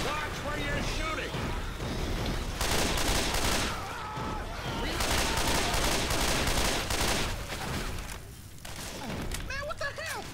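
Rapid bursts of automatic gunfire and repeated shots in the zombie shooter game Left 4 Dead 2, loud and nearly continuous, with players talking over the shooting.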